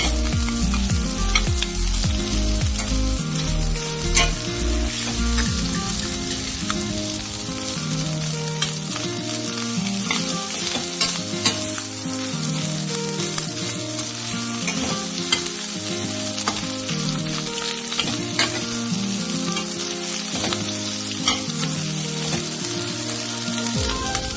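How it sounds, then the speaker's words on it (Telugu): Rice being stirred into a hot pan for egg fried rice, with steady scraping strokes over a constant loud sizzle, no voices. "1 కప్పు రైస్ వేసి బాగా కలుపుకోవాలి"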